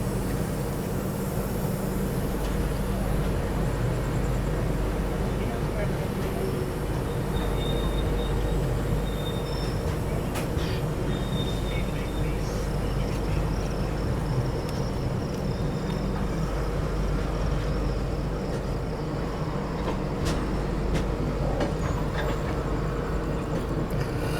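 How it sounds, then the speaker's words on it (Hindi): The Chennai Express pulls out of Wadi Junction, a steady loud rumble of rolling wheels and carriage noise filling the whole stretch, with faint higher squeals and clanks on top. "चलिए अपनी चेन्नई एक्सप्रेस दोस्तों जो है वाड़ी जंक्शन से डिपार्चर ले चुकी है।"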